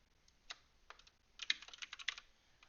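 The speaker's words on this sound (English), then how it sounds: "Excuse my wonderful typing." Close computer keyboard typing during a tabletop RPG character sheet redesign: sparse keystrokes at first, then a quick irregular run of clicks, with no talking.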